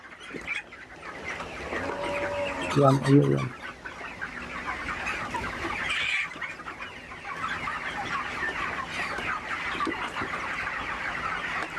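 Chickens cluck and murmur steadily throughout, with a brief louder squawking burst early on, a busy flock sound close by.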